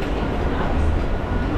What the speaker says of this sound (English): Train just leaving, guys.